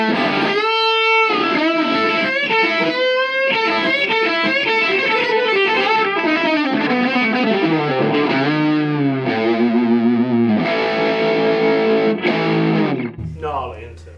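A Gibson Les Paul electric guitar through distortion, played in continuous gritty riffs and sliding bends that stay loud and thick throughout, then cut off near the end.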